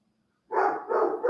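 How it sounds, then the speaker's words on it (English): A large Great Pyrenees-size dog, a great Burmese weighing 88.5 pounds, barks loudly and close by in two deep, sustained bursts after a moment of quiet. "that sounds like a big pup"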